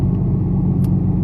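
A modified 2014 Ford Mustang rumbling in the background: a steady, deep low-frequency drone that holds constant throughout the clip without revving.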